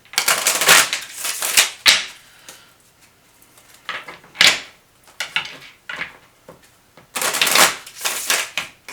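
A new, stiff Field Tarot card deck being shuffled close up, several bursts of crisp riffling and flapping cards with short pauses and soft taps between them.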